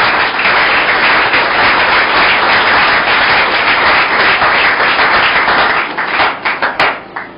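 A church congregation claps and applauds during a French-language sermon, dense sustained clapping close and loud for several seconds, then thinning into a few scattered claps at the end.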